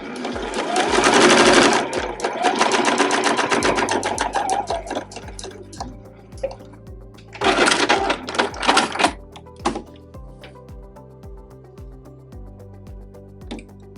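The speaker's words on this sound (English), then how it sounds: "Now I'm lining up the edge of my presser foot with the last row of stitches and just doing the next row" Sewing machine stitching straight rows across fabric scraps for a zipper pouch, a fast rhythmic needle clatter running in loud bursts that stop and restart, with a brief pause between rows.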